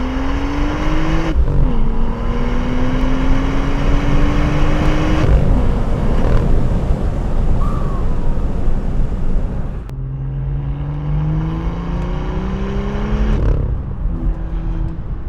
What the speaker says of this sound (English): let the car do a little bit of the talking, see if you can get an idea of what this sounds like